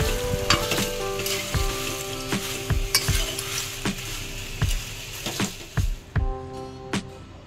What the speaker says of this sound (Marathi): इथे आपण काश्मीरी लवंगी आणि शंकेश्वरी मिरची भाजून घ्यायची आहे